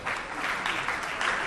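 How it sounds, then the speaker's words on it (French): Dense, loud applause from wedding guests in a reception hall at a customary Congolese wedding, a continuous crowd of clapping hands cheering the newlyweds, brief and sustained throughout. "On les applaudit très très fort."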